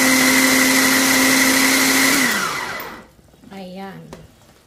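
An electric food chopper whirs steadily at high speed as it minces vegetables and pork, then winds down and stops about two seconds in, followed by a brief voice up close.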